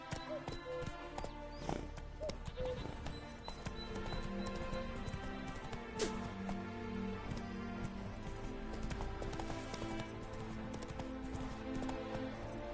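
Hoofbeats of the horse Roach in a PS4 game, a steady galloping clip-clop rhythm running throughout under game music and ambience.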